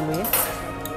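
A large metal spoon clinks against a dish during a meal, a couple of short bright taps close by over a murmur of voices talking.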